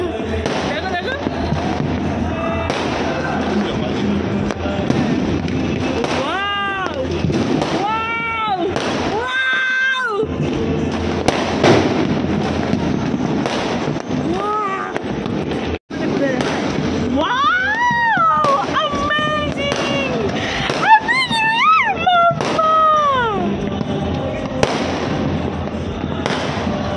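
New Year fireworks burst on every side, a dense run of pops, crackles and booms from near and far that goes on without pause, with people talking and calling out over them.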